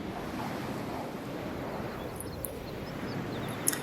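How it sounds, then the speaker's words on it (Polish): Rain and a windstorm in the video game Scrap Mechanic make a steady, broad rushing roar with gusting texture. It carries on alone and fairly evenly, with a couple of brief faint ticks near the end. "pada ten deszcz, nie wiem czy to deszcz czy wichura"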